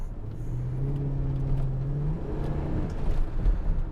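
Ford F150 pickup with a misfire and gas smell accelerating hard from a stop with tires spinning, engine note climbing steadily then dropping as it shifts, close and continuous with no talking.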